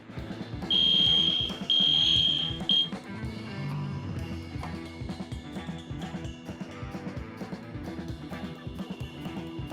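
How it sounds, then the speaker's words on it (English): An indoor fire alarm under test blares two loud, sustained high-pitched tones and then a short third burst, sounding over music and game audio that keep playing afterward. "They were doing some fire alarm testing on one of the days of the Subathon"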